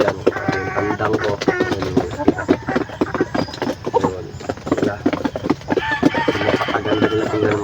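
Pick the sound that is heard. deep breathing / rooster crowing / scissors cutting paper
rooster crowing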